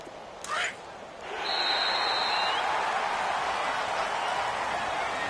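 A home crowd in a sports video game breaks into sustained applause that swells after a brief moment and holds steady, a broad wash of clapping and cheering.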